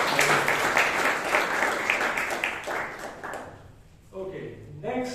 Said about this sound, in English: Can you give a round of applause to?